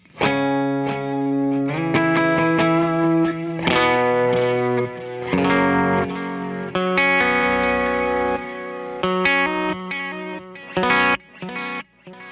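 A Mercury X guitar pedal on its dotted tape delay preset, modelling a magnetic tape echo, plays a processed, chorused guitar with chords and single notes trailing into repeats, loud and sustained with no voice.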